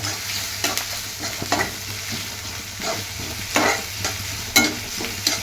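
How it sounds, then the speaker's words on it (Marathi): Onion sautéing in oil in a pan for chicken biryani, a steady close sizzle with intermittent scraping stirs every second or so. "जरासा कांदा असा चांगला तेलावर परतून घ्यायचा परतून घ्यायचा कांदा"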